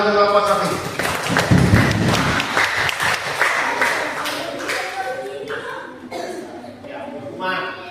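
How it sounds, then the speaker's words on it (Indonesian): A fifth-grade Islamic religious education class breaks into a burst of clapping, loudest at the start and then tapering off, while voices talk and laugh over it. "tepuk tangan untuk Bapak Safi"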